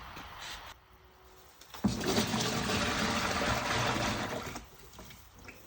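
A steady pour of about five liters of honey runs into a basin for a few seconds, a soft continuous liquid rush that starts abruptly and tapers off, close and alone.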